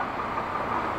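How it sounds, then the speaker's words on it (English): A long CSX freight train rumbles past nearby, a steady broadband roar with no breaks across the brief stretch. "That is one huge train right there."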